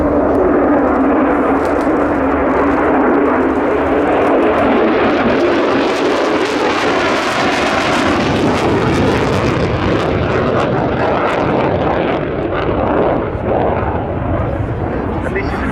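A Royal Air Force Lockheed Martin F-35B Lightning II jet roars loudly overhead at an air show, its engine noise swelling and sustained as an announcer talks over it.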